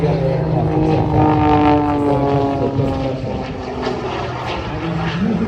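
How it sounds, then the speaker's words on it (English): An aircraft spins on its axis during an air show display at the Ayr festival of flight, its engines and turbine thrust giving a loud, sustained roar with slowly shifting pitch, while a voice talks over it. "Just spinning the aircraft on that axis. That is impossible to do in any other aircraft except that."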